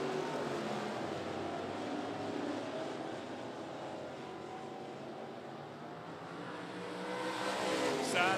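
Modified race cars roar around 411 Motor Speedway in a continuous loud engine drone, swelling again near the end as the pack passes, with a commentator's voice faintly underneath.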